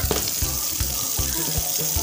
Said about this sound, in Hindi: बहुत पानी से खेल लिया